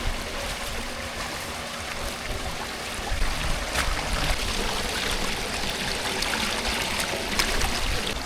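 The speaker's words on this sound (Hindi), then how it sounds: "पानी आहिस्ता आहिस्ता इसके अंदर चला जाएगा" Water trickling slowly into a sack, a steady close wash of flowing water with no talk.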